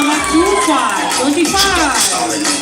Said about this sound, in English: Please give a big round of applause for contestant number